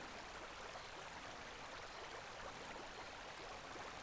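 A gentle river in Costa Rica streams on in a soft, steady hiss of flowing water, faint and unbroken, with no voices.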